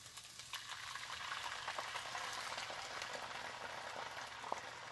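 White wine hits a hot pan of asparagus on high heat and comes to a boil, a steady, even hiss of bubbling and sizzling, soft and continuous with no voices.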